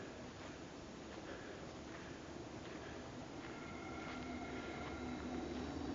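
A freight train rumbles past at a distance near the Lilyvale railway tunnels in Royal National Park, in a steady, continuous roar, with faint metallic squeals rising over the low drone.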